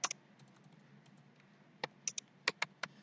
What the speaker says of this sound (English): So I've typed some description.